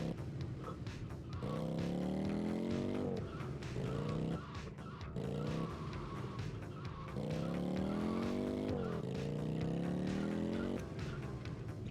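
A motorcycle ridden in GTA Vice City Stories on PS2, its engine revving in repeated rising whines that drop between gear shifts, steady and fairly close, with no voices over it.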